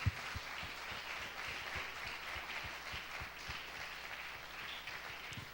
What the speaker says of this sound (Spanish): Le damos un gran aplauso al Señor.